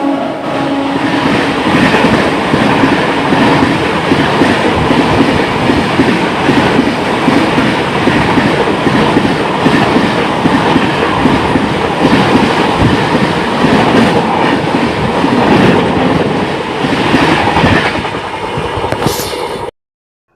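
The Radhikapur–SMVT Bengaluru Express rushes past on the adjacent line, a loud, continuous roar with rapid clickety-clack of wheels over rail joints, heard from a stopped train, ending abruptly.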